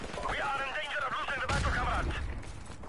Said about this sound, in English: I'm gonna use an actual gun now